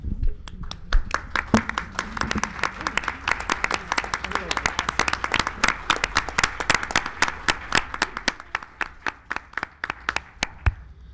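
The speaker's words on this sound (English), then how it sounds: "I'd like to take a moment to recognize and applaud all teachers and staff from Ferry Farm and other schools at this time" Audience applause for teachers and staff at a school board listening-tour meeting, many distinct hand claps close together, loud and rapid at first, then thinning into scattered claps toward the end.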